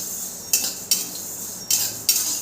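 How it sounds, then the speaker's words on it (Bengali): A metal spoon scrapes and clinks against a pan as fennel seeds are stirred while roasting alongside fenugreek and coriander for a raw mango pickle, with four sharp scraping strokes at a steady pace and no talk. "মৌরিটা দিয়েও খুব ভালো করে নাড়বো।"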